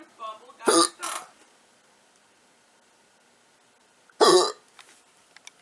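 A girl hiccups nearby in short, sharp bursts, two in quick succession and then a third after a long quiet pause, with faint breathy sounds around them.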